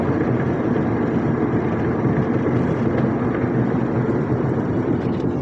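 Loud, steady roar of rushing wind and road noise, like driving with the windows down, constant and broadband with no voices.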